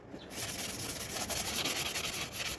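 Sandpaper scuffs back and forth across a stained wooden guitar body, a close, steady dry rubbing that continues without a break.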